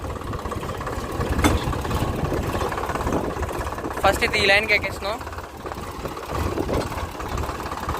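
A large tractor's engine runs steadily while being driven, a continuous low mechanical drone throughout, with someone talking over it.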